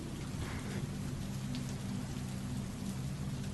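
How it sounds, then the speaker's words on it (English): Steady rain falls in stormy weather, a dense, constant hiss of drops on surfaces with low rumbling underneath, even and unbroken throughout with no voices. "Stormy weather,"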